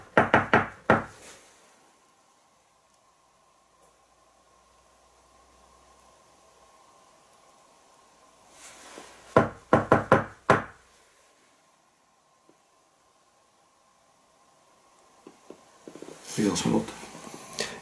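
Knocking on a door or wooden surface inside an old cottage during a paranormal investigation: a quick burst of knocks, then a cluster of several sharp raps after a quiet pause, and more knocking at the end over faint hiss.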